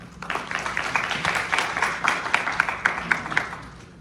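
A seminar audience at a smart-manufacturing results-sharing event claps to welcome the next speaker, steady moderate applause from a room of people with individual sharp claps standing out, lasting about four seconds.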